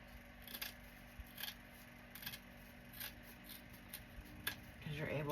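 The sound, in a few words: scissors cutting wired ribbon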